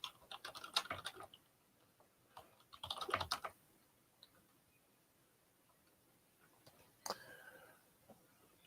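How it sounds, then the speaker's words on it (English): Quick bursts of keystrokes on a computer keyboard, faint and close, with pauses between runs of typing in an otherwise quiet room. "Let me just type that in."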